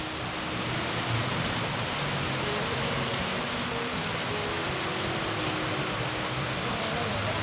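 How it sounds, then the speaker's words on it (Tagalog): Heavy rain pours down steadily in a dense, loud, unbroken hiss that fills the whole scene, with faint voices under the downpour. "Lumakas na ng lumakas ng ulan ka, Tekram."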